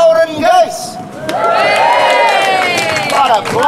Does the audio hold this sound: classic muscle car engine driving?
no